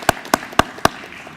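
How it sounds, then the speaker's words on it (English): At a community dedication event, four sharp handclaps ring out close and evenly spaced, with no voices between them. "Give them a round of applause."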